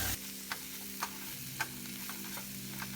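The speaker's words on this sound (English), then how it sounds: "In goes the tofu." Tofu hitting hot oil with green onion and garlic gives a steady low sizzle, broken by a few sharp clicks and scrapes of a utensil stirring the pan; the clip is quiet, with no voices.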